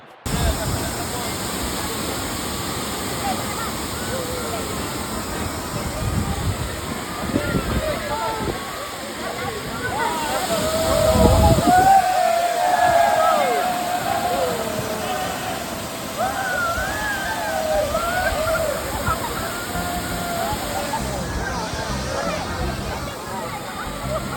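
A rushing waterfall at a bathing spot in Bentong, Pahang, a constant loud roar of falling water with splashing, while a person talks over it throughout.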